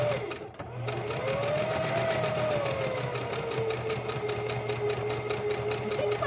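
A sewing machine stitching fabric along a curve runs in a steady, fast mechanical clatter throughout, moderately quiet and close, with no talk over it.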